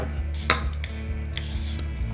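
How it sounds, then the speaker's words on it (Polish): Utensils clink against a bowl as chopped salmon for tartare is scraped in, a few short light taps and knocks close by over a low steady hum, with no talking. "Tak pościekanego łososia przerzucamy do miski"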